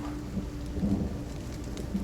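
Storm ambience of steady rain with a low wind-like rumble, a continuous wash filling the whole stretch at moderate loudness, with no talking.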